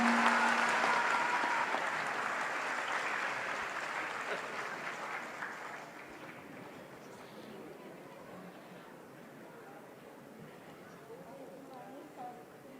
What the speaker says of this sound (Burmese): လက်ခုပ်အော်ပါသများနဲ့ဂုဏ်ပြုပေးပါအောင်ခင်ဗျာ